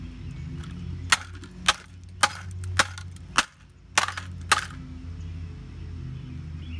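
Hammer smashing computer parts such as a motherboard and video card, eight sharp cracking blows in a loose rhythm about half a second to a second apart, loud and close, with no speech.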